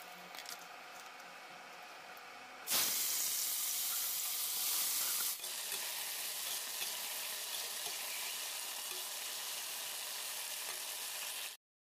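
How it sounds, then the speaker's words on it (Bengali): Sliced bitter gourd hits hot oil in a pan with a sudden loud sizzle partway in, then fries steadily with a bright, dense crackling hiss that eases slightly and holds until it cuts off. "উচ্ছে ভাজাটা বসিয়ে দিয়ে চলে এসেছি"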